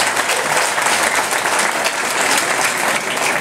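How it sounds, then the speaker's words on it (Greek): Sustained audience applause fills a hall at a Greek parish charity benefit event in Neapoli, Vatika, steady and dense throughout without any voices over it. "Ένα πολύ μεγάλο χειροκρότημα για"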